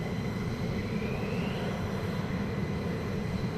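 Two F-15 jets depart RAF Lakenheath with a continuous, heavy engine roar that holds steady and loud throughout.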